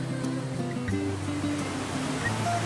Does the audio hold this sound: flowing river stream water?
yes